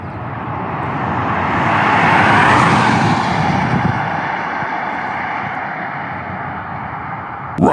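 Drag race between a Tesla Model 3 Performance and a truck, a loud roaring rush of vehicles passing close, swelling then easing into sustained road noise.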